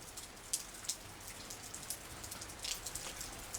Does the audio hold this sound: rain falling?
yes